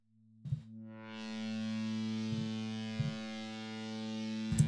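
Serum synth lead preset with a chorus effect, a sustained buzzy, distorted tone that swells in and holds steady, with a few short percussive taps landing on top, no voices.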